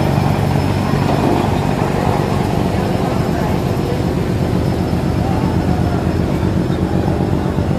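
The passenger launch MV Sundarban 16 leaves the Barisal launch terminal, its engine droning in a steady, loud, continuous rumble with wind, while a voice talks over it.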